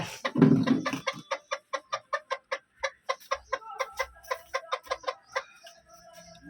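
Hens cluck in a steady run of short, close calls, about two or three per second, with a low scuffling rustle at the start.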